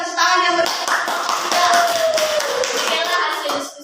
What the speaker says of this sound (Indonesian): Silakan berikan tepuk tangan yang